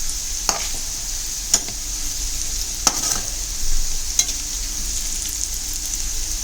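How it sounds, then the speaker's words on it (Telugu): Potato fry sizzles in a pan as salt is added and the mix is stirred, a steady hiss of frying broken by a few sharp scrapes and taps of the spoon. "ఇప్పుడు కొద్దిగా సాల్ట్ వేసుకొని మరి ఇంకొకసారి బాగా కలపండి."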